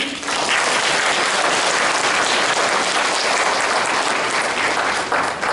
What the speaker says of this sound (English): So can we join in giving them a round of applause?